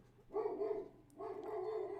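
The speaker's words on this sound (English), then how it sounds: "That's barking." Two dog barks, each a sustained rough bark, heard clearly in a Madden 17 football game setting with no talk over them.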